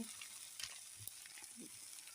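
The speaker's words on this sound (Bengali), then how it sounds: "মশলাগুলো একটু কষিয়ে নিচ্ছি, ভালো করে সুন্দর করে কষিয়ে নিচ্ছি।" Turmeric and cumin powder fry in a pan with a faint, steady sizzle, broken by a few soft scrapes and taps as the spices are stirred; no speech.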